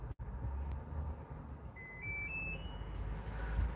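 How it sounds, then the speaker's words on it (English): Washing machine being switched off, giving a short rising sequence of three or four soft electronic beeps over a low background rumble. "It's got all these lovely little beeps and sounds."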